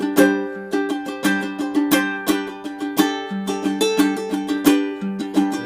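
Acoustic guitar strums a riff in a quick back-and-forth pattern over open-string chords, bright and close with a steady rhythmic pulse and no voice.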